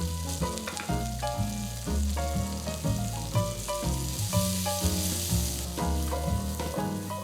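Brussels sprouts searing in a hot pan to char their outsides, giving a steady, continuous sizzle under rhythmic background music, with no talking.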